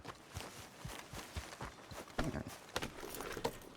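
Quick, uneven horse hoofbeats clatter at a gallop over a quiet background in Red Dead Redemption 2, a steady run of clip-clop strikes with no speech.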